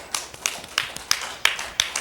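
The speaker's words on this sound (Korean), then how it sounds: "하나님께 영광의 박수 올립니다" Scattered handclaps from a church congregation giving praise to God during a Sunday morning worship service, about six separate sharp claps spread unevenly over two seconds, fairly faint and irregular.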